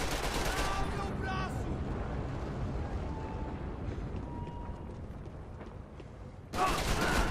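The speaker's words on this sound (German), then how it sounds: "Kommt rauf und schießt mich gerade ab." Gunfire from the video game Max Payne 3, a dense, continuous wash of rapid shots and crackle running throughout, with a louder burst near the end; a voice talks over it now and then.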